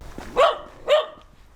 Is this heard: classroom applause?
no